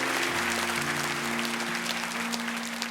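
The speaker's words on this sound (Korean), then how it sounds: "박수로 축복해 주시기 바랍니다." A church congregation applauds as a blessing for young people during a Sunday service, a steady dense wash of clapping over a low sustained organ or keyboard tone.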